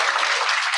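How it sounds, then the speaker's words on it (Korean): Audience applause at an Amway business presentation, a brief dense burst of many hands clapping, even and fairly loud, cut off abruptly. "지금까지 사업 설명해 주신 김 박사님께 다시 한번 큰 박수 부탁드리겠습니다."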